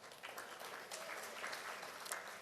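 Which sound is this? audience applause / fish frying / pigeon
audience applause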